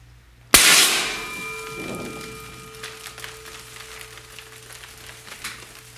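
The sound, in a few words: Flutter Fetti Baby Gerb confetti launcher firing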